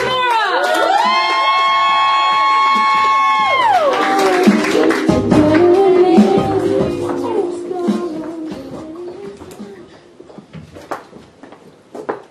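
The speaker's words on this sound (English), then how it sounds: "now I need you to clap loud and enthusiastic" An audience at a poetry slam claps, cheers and whoops in a loud burst that thins into scattered claps and shouts, after a long sustained sung or drawn-out vocal tone at the start.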